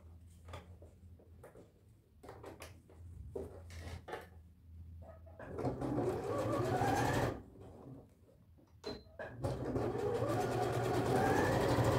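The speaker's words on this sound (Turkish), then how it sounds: "şimdi lastiğimi burada dikiyorum" A sewing machine stitches elastic onto a tracksuit waistband, running in two sustained loud bursts separated by quiet handling clicks and pauses, heard close with no speech.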